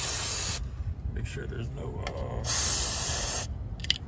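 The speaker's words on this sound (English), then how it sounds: "we'll go ahead and spray it down, wipe down" Aerosol spray hissing onto the transmission of a 1999-2003 Ford 7.3 Powerstroke diesel truck during a bypass valve delete; two strong bursts of spray with someone talking in the pause between them.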